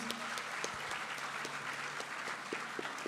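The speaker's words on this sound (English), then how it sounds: "Let's have a big round of applause" Applause at a school leadership talk honoring an education society's pledge, a steady crowd clapping for about three seconds with dense, even patter and a few sharper individual claps standing out.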